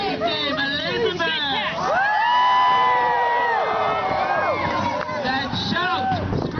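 A crowd at a jousting tournament in Sherwood Forest cheers, whoops and screams, with many overlapping voices swelling loud in the middle and staying lively throughout.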